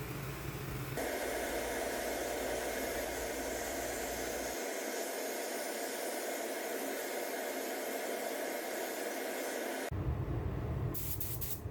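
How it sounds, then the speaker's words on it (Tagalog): A blower drying freshly sprayed metallic silver paint ahead of clear coat, a loud steady airy whoosh running almost unbroken, then cutting off near the end before a brief different rush of air. "Blower natin mga idol para pagka naging matte yan"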